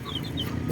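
A mother hen, half Uluano and half native Bisaya chicken, gives soft, short clucks over a brief moment, close by, with faint high peeps from week-old chicks nearby.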